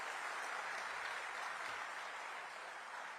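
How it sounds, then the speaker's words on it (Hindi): An audience claps steadily at a welcome ceremony during a global warming campaign event, a dense, even wash of applause that holds for several seconds and fades slightly at the end. "जोरदार तालियों से आप सभी भी स्वागत कर रहे हैं।"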